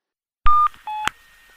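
Touch-tone dialing on a coin phone box telephone: two clear, close electronic tones, each lasting a fraction of a second, with a faint echoing tail.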